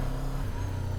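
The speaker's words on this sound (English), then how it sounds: "Definitely sounds like a parallel twin, right?" A 2024 Kawasaki Z7 Hybrid motorcycle's parallel twin engine runs steadily up close, a low, even drone with a constant rumble under it and no talking.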